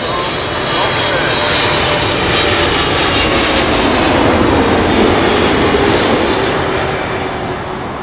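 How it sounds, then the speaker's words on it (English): British Airways Boeing 777-300 jet arriving at Heathrow from Boston, a dense, steady engine roar holding loud and close throughout with only a slight fade at the end, voices faintly under it. "The British Airways 777-300, and that has come in from Boston."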